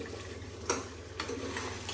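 Soft, steady sizzling of food frying in a pan, with a few sharp clinks of a utensil stirring against it.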